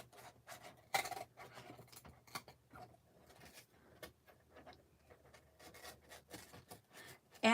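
Scissors cut through chipboard in a quiet room, making a series of faint, dry crunching snips at an irregular pace, with one sharper cut near the start.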